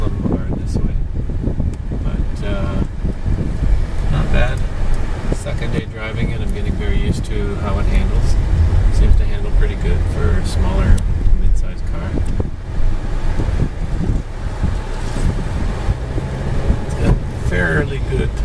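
Inside a 2016 Nissan Sentra on the move, a continuous road, wind and engine roar with some fan-like hiss fills the cabin while a person talks over it.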